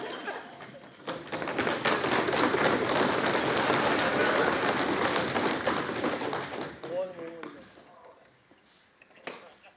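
An audience at the Indian Youth Parliament in Udaipur bursts into loud, sustained clapping that fades out after several seconds, with a voice speaking as it dies down.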